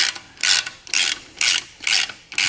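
Rapid ratchet wrench clicking in five evenly spaced bursts as the shock bolt torque is checked on a BMW M2 CS, loud and close with short quiet gaps between strokes.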